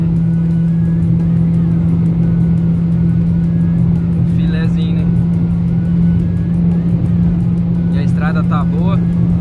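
Volkswagen Jetta 2.0 Comfortline driving at top speed on an open road with dips and a long straight, a loud steady engine and road drone filling the cabin throughout, with brief faint rattles now and then.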